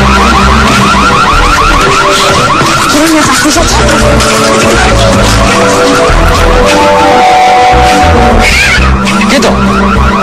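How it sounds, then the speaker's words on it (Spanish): A car alarm blares continuously at close range, its repeating electronic tones cycling over engine rumble, with a few shouted voices breaking through. "¡Apaguen alarma!"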